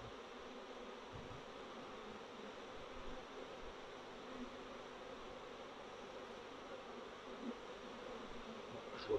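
Honeybees hum steadily around an open hive being shaken to add a swarm, a dense low buzz of many insects close by, unbroken for several seconds.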